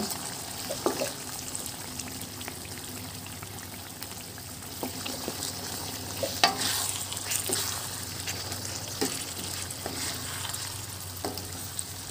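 Binagoongan being stirred in a pan after vinegar goes in, with a steady sizzling fry throughout and scattered soft scraping and clinking from the spoon against the pan.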